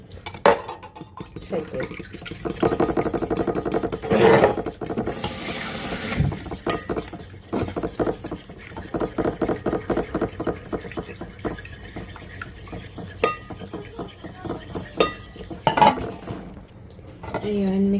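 An egg being mixed in a bowl with a utensil for a no-bake double chocolate dessert, steady rhythmic scraping and clinking strokes beneath a person talking.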